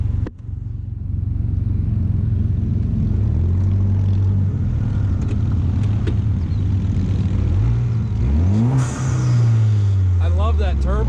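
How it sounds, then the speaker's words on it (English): Turbocharged motorcycle engine at the Sturgis rally drones loudly and steadily, with rising and falling revs and a closing whine as it pulls away. The engine stays up close and continuous throughout, with background rally noise. "I love that turbo."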